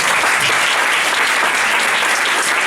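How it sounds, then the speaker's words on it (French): Loud, dense applause from an audience at a Madrid event fills the whole moment, a steady roar of many hands clapping at once with no voices on top. "un aplauso para ella"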